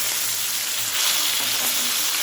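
Pieces of rohu fish frying in a pan, a loud, dense hiss of sizzling oil filling the whole stretch, close and continuous.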